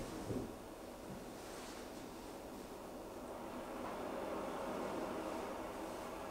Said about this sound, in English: The waves made me feel peaceful.